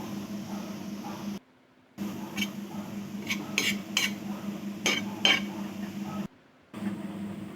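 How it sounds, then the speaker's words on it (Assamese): Fish and tomatoes are stirred in a cooking pan, with a series of clear metal spoon clinks and scrapes over a low steady hum, broken by two brief silent gaps. "এয়া মই এনেদৰে লুটিয়াই দিছোঁ আকৌ এবাৰ।"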